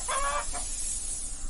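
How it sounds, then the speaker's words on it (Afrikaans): Chickens in a coop cluck in a couple of short, close bursts over a steady background hiss, with no talking. "Die gemmerbroodman ontdek 'n hoenderhok."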